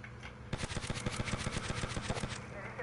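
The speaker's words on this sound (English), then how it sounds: "Dude, I got a Gatling gun." Rapid automatic fire from a Gatling gun in a video game, a fast run of sharp repeated bursts lasting about two seconds after a brief quiet lead-in, loud and close.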